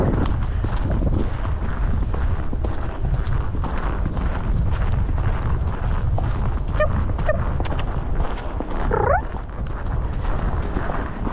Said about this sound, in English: When we've passed this puddle, you can canter again.